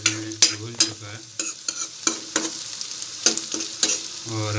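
Onions frying with salt in a pan are stirred with a utensil, giving a run of irregular scraping strokes over a steady close sizzle.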